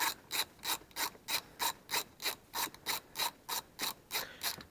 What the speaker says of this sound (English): Go ahead and loosen that bolt up.